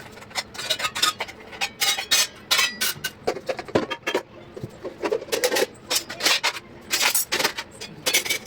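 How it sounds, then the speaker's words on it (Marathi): Kitchen utensils and pots being put away quickly after washing, a rapid series of close metallic clinks, clatters and scrapes as pieces are stacked, with no talking. "आता हे भांड्या पटापटा लावू"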